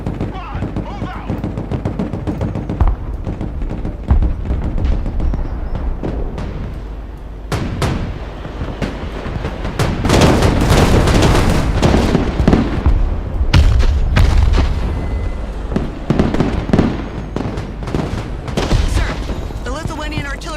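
Lithuanian PzH 2000 self-propelled artillery in a military strategy video game fires repeated heavy booms and blasts, some loud and some distant, with a voice speaking over the barrage.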